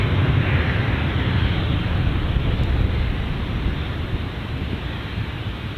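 A strong gust of wind hits at Gold Coast Airport in the downwash behind a departing 737, a loud, steady broadband roar and rumble of buffeting air with no voices.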